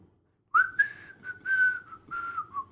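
Melodic human whistling from a song, a clear sustained tune in several phrases with short gaps, gently wavering in pitch over quiet background music.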